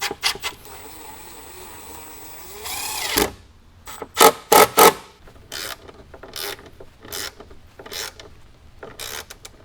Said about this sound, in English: from the bottom side, you're going to install the flat washer and then the nut to hold it into place.